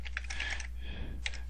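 Computer keyboard keys clatter in quick bursts as code is typed for Android programming, close and fairly quiet, with a brief pause mid-way before more keystrokes.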